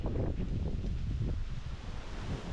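Gusty wind buffets the microphone outdoors as Hurricane Milton approaches, a continuous low rushing roar with uneven surges and no voices.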